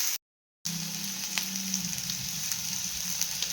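Sliced onion sizzling and frying in a pan for a Kerala fish curry, a steady hiss with a brief silent gap near the start, no talk.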